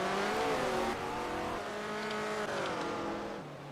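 A 1978 USAC Eagle Indy race car engine screams at high revs, its whining pitch rising and falling as it passes near and then fades slightly, loud and alone.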